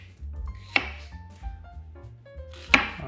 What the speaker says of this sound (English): you're gonna make these slits down the onion, almost touching the bulb a bit.